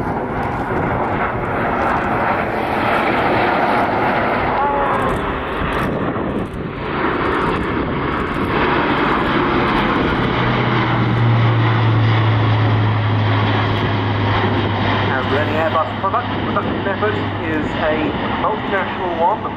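Jet aircraft flying in tight inverted formation at an air show at RIAT 2015, a loud continuous engine roar that holds steady for the whole stretch, with a commentator speaking over it.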